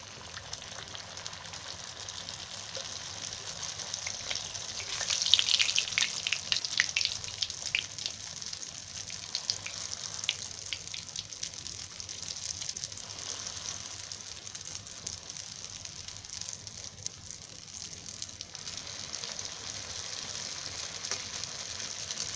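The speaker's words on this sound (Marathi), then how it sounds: "मी आता बाकीचे तळून काढते आणि तुम्हाला दाखवते" Bhature, a puffy fried bread for chole bhature, sizzle and bubble steadily in hot oil for the whole stretch, with a brief louder burst of crackling near the start and no voices.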